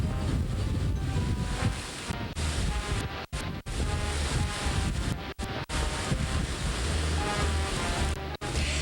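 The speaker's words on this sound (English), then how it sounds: "and it's quite windy" Strong wind in Mobile, Alabama roars and buffets a microphone continuously, loud and gusty, with brief dropouts and a washing, surf-like rush.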